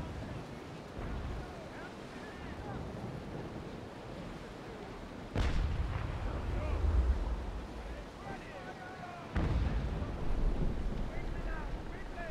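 Naval cannons firing chain shot in the Naval Action sailing video game: two heavy booming blasts several seconds apart, each followed by a rumbling tail, over steady wind and sea noise.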